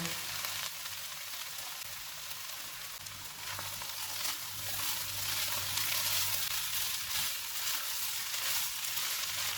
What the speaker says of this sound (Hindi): इनको 2 मिनट तक भूनेंगे।